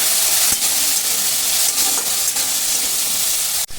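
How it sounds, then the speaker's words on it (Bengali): Mussels fry in a pan with turmeric and salt, filling the scene with a loud, steady, close sizzle and hiss that barely lets up, with occasional stirring knocks and no talking. "দিয়ে আমি ভালো করে মিটুলিটাকে ভেজে নেবো লাল লাল করে"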